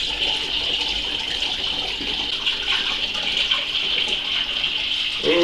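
Hot liquid sugar poured into a lavender metheglin brew, a steady close splashing gush of liquid running for several seconds without a break.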